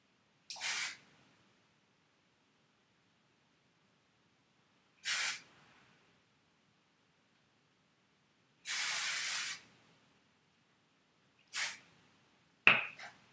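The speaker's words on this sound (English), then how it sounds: "and give it one last little spray." Hairspray hisses onto a hair bun in four separate close bursts, short and longer in turn, with silence between them and a sharp knock or click at the very end.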